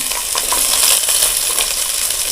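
Small shallots frying in hot coconut oil, giving a loud, steady hiss and crackle that runs without a break, with no voices over it.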